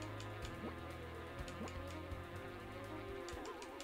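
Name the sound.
bees buzzing in the video game Bugdom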